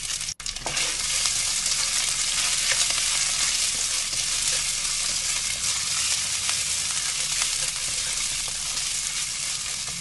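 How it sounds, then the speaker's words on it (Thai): Shredded fish strips stir-fried with garlic in a hot pan, a steady loud sizzle and crackle running unbroken throughout, with occasional scraping of the spatula and no talking. "ต่อไปเราก็ใส่ปลาเส้นลงไปค่ะจากนั้นก็ผัดต่อค่ะ"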